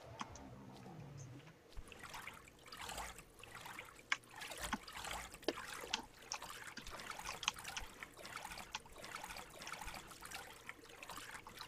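Water splashing as a character swims in the space survival game Empyrion: Galactic Survival, a steady trickling, sloshing wash with repeated soft splashes, moderately quiet and continuous with no talking.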